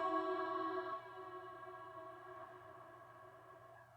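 A sung vocal note cuts off and leaves a long, smooth reverb tail from the Baby Audio Spaced Out reverb plugin, slowly fading like a voice ringing out in a huge space.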